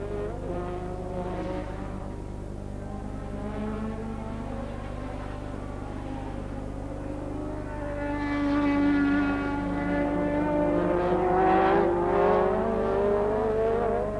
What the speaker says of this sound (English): the Ligier with its Renault engine, the Ferrari with its V6 turbo Ferrari engine, and the Renault powered, of course, Renault of Warwick go round Druids Hill Bend together.